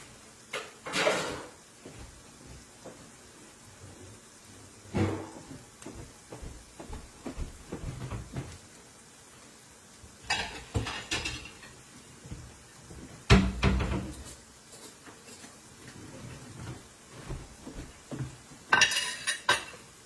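Dishes clatter as a plate is taken from a kitchen cupboard, with scattered clinks, knocks and cupboard thumps in bursts between quieter pauses, close by.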